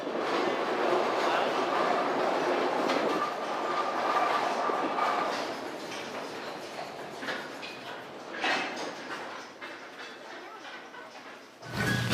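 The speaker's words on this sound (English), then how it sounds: "Train's gonna be leaving, so it's gonna make some noise." A mine train rail car rumbles and rattles along the tracks inside the Old Hundred Mine in Silverton, loud and close, with clanks and a brief squeal before the noise drops away.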